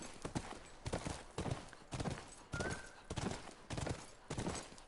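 Horse hooves clip-clop in a steady, even rhythm in the video game The Last of Us Part II, each hoof strike crisp and fairly close against a soft background hiss.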